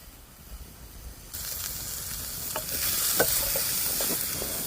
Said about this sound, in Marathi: खोबरं आणि टोमॅटो पण आपण कांद्यामध्ये चांगलं भाजून घेऊया